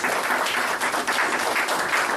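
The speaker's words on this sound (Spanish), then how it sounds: "Puedes darle un fuerte aplauso al Señor." Congregation applauding in a church after an Easter sermon, a steady wash of many hands clapping that fills the room evenly for the whole moment, with no speech over it.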